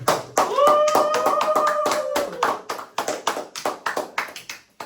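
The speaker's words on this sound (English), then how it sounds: "let's clap it up" A few people clapping hands in uneven, close bursts, with a brief sung or hummed tone early on and rhythmic slaps tapering off toward the end.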